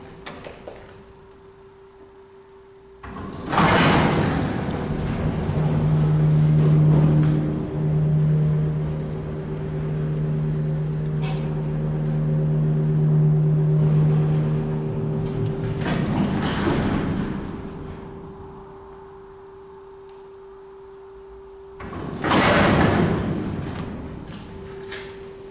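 Montgomery hydraulic freight elevator with an 8,000-pound capacity cab at Streets of Woodfield in Schaumburg, Illinois: heavy doors slide and thud open and shut at the start and end, with a steady hydraulic motor hum and drone running in between.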